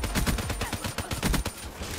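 Rapid automatic gunfire rattles through a gunfight in the video game Black Ops 3, dense overlapping bursts and shots firing loud and close for a couple of seconds with no talking.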